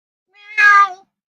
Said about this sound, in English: He is meowing so loudly.